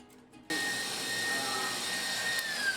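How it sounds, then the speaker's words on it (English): Electric stand mixer beating egg yolks with sugar for a tres leches cake, a loud steady motor whine starting abruptly after a brief quiet moment and holding an even pitch. "once in a while you're beating your eggs, you want to come in with a spatula and run your spatula around the mixer"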